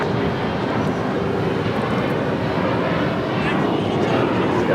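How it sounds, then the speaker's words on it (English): A United Airlines Boeing 777-200ER in Star Alliance livery, arriving from Newark at Los Angeles airport, produces a steady, loud broadband jet roar that continues through the whole stretch with no gaps. "that is United Airlines and the Star Airlines livery, flight 2445, coming from Newark at 777-200 ER"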